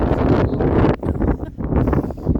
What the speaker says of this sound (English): it is so windy